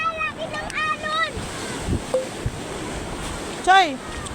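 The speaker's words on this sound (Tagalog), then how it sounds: "Laki ng alon!" Big ocean waves crash on a busy morning beach, a broad surf wash running through the whole stretch under bursts of excited voices and shouting.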